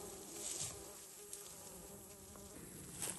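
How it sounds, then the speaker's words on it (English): Fluffy, fat honeybees buzz steadily at their nest, a close, continuous insect drone with no voices. "They're some kind of honeybee. They're really fluffy and fat."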